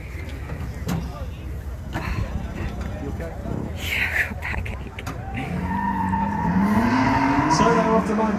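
Drift cars at a 2019 Driftcup event launch off the start line, engines revving and tires squealing into a rising, sustained screech, with a commentator talking over the action.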